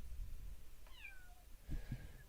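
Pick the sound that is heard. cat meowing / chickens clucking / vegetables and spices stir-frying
cat meowing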